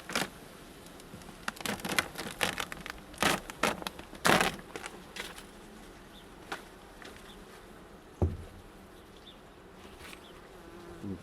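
Bees buzzing close by at evening hives, with several loud passes as insects fly near, fading in and out over a quiet outdoor background.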